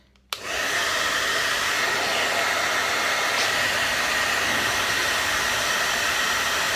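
A hair dryer switches on abruptly and blows in a steady, loud whooshing hiss, heating a Jamberry nail wrap until it softens, running continuously with no talk.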